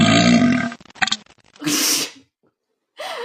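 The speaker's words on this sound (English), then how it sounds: "just busted out a fart recording on his phone out of nowhere" A fart recording played back from a phone gives a couple of loud, raspy bursts separated by short pauses, close and clear with no talking.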